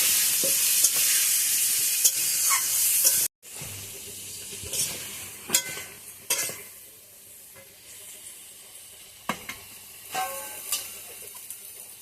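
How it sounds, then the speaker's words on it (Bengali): Potatoes with turmeric and salt frying in a pan, a steady hiss for the first few seconds, then quieter sizzling broken by repeated spatula scrapes and clinks. "এবার আলুগুলো লাল লাল করে ভেজে নেব।"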